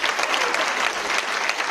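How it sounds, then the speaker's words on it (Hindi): Applause from a spiritual class audience welcoming a young boy, a dense, steady wash of many hands clapping close by that holds evenly throughout. "तो ऐसे कुमार के लिए जोरदार तालियां"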